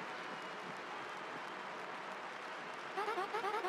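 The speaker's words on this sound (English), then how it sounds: "The crowd is going to wait wild for Gonzalez, our third champion" Crowd cheering fills the Glitz Pit arena in the Paper Mario: The Thousand-Year Door remake, a steady, dense roar of game audience noise that lasts throughout, with chirpy, bleeping tones appearing near the end.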